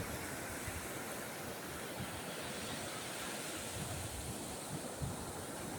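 Ocean surf rolling onto the beach at Ashdod, Israel, a steady broadband wash of waves with wind buffeting the microphone, continuous and fairly distant, with no voices.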